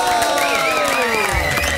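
Loud crowd cheering and clapping for a DJ, dense and continuous throughout, with whistles and shouts over music.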